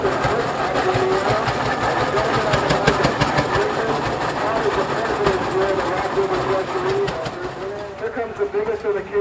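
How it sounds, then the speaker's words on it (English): A Case 110 horsepower steam engine running at a threshing show, a steady mechanical chugging and hum close by, with someone talking over it. "This is a Case 110 horsepower Case steam engine"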